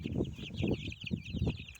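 Young chicks peep in a continuous high-pitched chorus, close by, over soft clucking and rustling.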